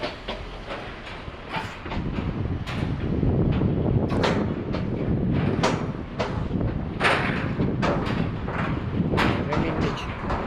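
Riding inside a Swiss car-carrying train, a steady rumble runs under repeated rhythmic clatter of wheels over rail joints, with voices talking nearby.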